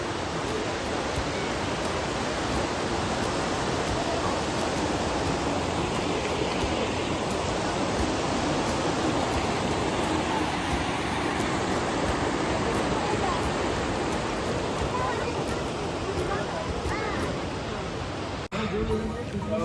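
Clear, cold river water rushing in Pelling, a dense, steady roar of flowing water filling the whole stretch, loud and close, with voices faintly mixed in.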